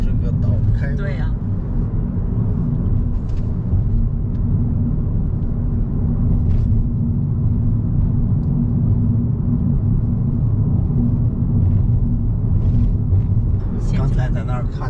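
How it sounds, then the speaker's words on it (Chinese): A public bus circling Oahu island drones with a steady low engine rumble heard from inside, constant throughout, with people occasionally talking over it. "这个公共汽车是绕着这个岛开的"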